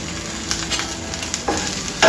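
Stuffed bitter gourd fries in a pan with a steady oily sizzle, close and continuous, broken by a couple of brief scraping stirs near the end.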